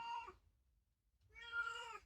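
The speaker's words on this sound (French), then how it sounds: "Bonjour mon chat." A cat meows twice nearby, a short call followed by a pause and then a longer, louder meow, in an otherwise quiet room.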